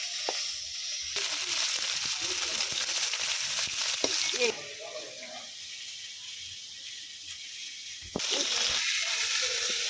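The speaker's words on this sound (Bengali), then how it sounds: "তো এখন লাউ মাছগুলা তেলে দিয়ে দিব, তেলটা অলরেডি দিয়ে দিচ্ছি।" Turmeric-and-chili coated fish frying in oil over a wood-fired clay stove, a loud steady hiss that drops and surges back, with a few clunks and brief speech-like sounds.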